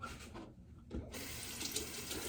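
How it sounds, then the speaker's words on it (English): A bathroom tap runs hot water over a double-edge safety razor, making a steady, close rushing splash that dips briefly before pouring on continuously. "I'll run the razor under some hot water, just to temper it a little bit."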